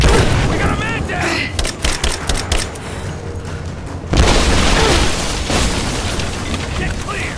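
Grenade blast in Rise of the Tomb Raider during a firefight, a loud booming burst amid rapid gunfire and combat noise, with shouting voices over the chaos.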